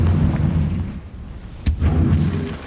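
A Confringo blasting spell goes off in Hogwarts Legacy, a loud, booming explosion with a sharp crack in the middle amid a rumbling low roar, heavy and close.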